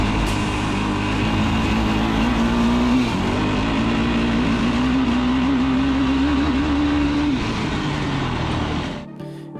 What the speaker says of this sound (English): Stab the throttle while riding, and you'll be dancing off the red line in just a few seconds as the motor spins up effortlessly.